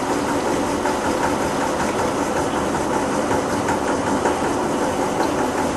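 A metallography specimen polishing machine spins at speed, giving a dense, continuous whirring roar that holds steady and loud throughout with no pauses.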